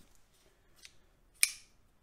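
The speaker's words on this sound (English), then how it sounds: "This side, Knipex scissors." Knipex electrician's scissors with a crimping section being handled: a few faint light clicks, then one sharp, bright metallic snip, close and isolated in a quiet room.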